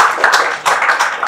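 Audience applause breaks out after a student union president is introduced at a university event, a dense wash of clapping with slight surges and one brief dip, fairly close and loud.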